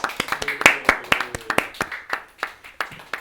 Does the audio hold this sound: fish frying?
no